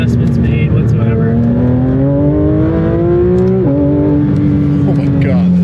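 A Porsche 911 GT3 RS, 992 generation, accelerates hard on a race track, its engine note climbing steadily through the revs, briefly dropping at a gearshift, then pulling again, loud and close from inside the car.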